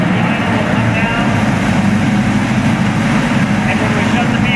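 A 1932 Plymouth PB engine idles steadily nearby, a low, even rumble that eases down as it settles, with someone talking over it.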